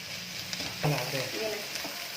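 Capsicum, beans and carrots deep-frying in oil for egg fried rice, a steady close sizzle with a few stirring scrapes and a clank near the end.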